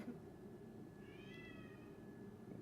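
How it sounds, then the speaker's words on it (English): A pet cat meows once, a drawn-out plaintive call rising and falling over a steady low background hum, fairly faint and with no talking. "Can you hear my cat?"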